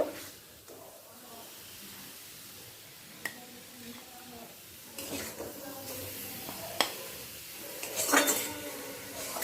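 Cooked taro leaves scraped and spooned out of a pan into another pot, with metal utensil clinks and scrapes, a soft sizzle underneath, and brighter clatters near the end.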